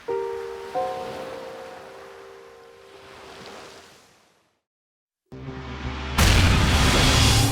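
Bomb explodes aboard an airliner flying at 10,000 meters: tonal drones fade into a brief near-silence, then a sudden loud, broad roaring blast erupts and holds as a heavy rumbling wash.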